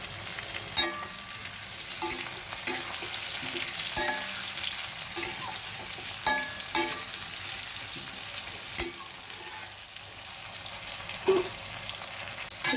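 Tomatoes and green chilies fry with onions in a pan, a steady moderate sizzle under regular spoon scrapes and taps that keep coming at a loose, even pace, heard up close without any speech.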